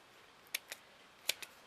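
Scissors snipping into a shabby chic fabric flower, four short crisp cuts in two quick pairs, close and quiet against a still room.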